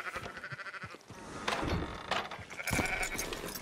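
Sheep bleat several times at a livestock camp in the video game Red Dead Redemption 2, wavering calls at moderate distance with thumps and background game ambience around them.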